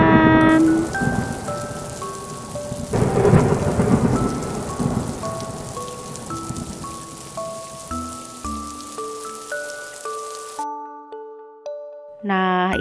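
Rain falls steadily with a rumble of thunder building early on, while melodic synthesized chimes play over the top before cutting out near the end.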